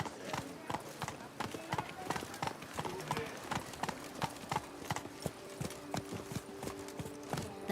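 Roach the horse trots with rhythmic clip-clopping hooves in The Witcher 3, steady and close, with game music tones and occasional spoken voices over the hoofbeats.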